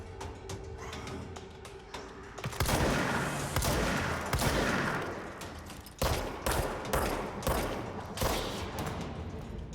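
Rapid bursts of gunfire from the video game Control, loud and dense, with sustained volleys and sharp separate shots over game music.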